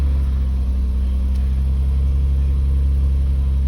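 A 2001 Nissan Maxima engine idles with a steady, loud low rumble that holds even throughout, close by, with no voices.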